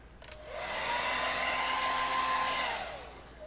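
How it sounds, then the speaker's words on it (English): A hair dryer whirs on, blows steadily at a loud, even pitch for a couple of seconds, then winds down. "Let me hair dryer real quick."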